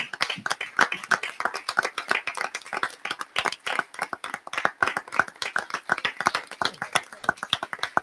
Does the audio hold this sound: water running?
no